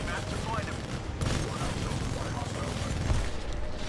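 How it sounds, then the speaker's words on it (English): Mortar titans barrage the harvester in the video game Titanfall 2, with dense, continuous rumbling explosions and gunfire in a busy battle mix, and a voice talks over it. "Gosh, the harvester's getting barraged by mortar titans."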